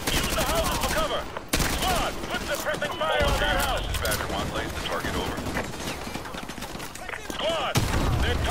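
Squad gunfire in the COD MW2 Campaign Remastered, a dense, continuous fusillade of rifle and machine-gun fire that stays loud throughout, with shouted voices mixed in.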